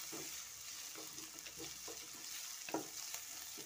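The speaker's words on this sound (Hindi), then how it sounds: "अभी वेजिटेबल्स को थोड़ा सौते कर लेते हैं।" Vegetables for veg chow mein sauté in a pan, a soft, steady sizzle with faint stirring scrapes and taps, fairly quiet and close, without any talking.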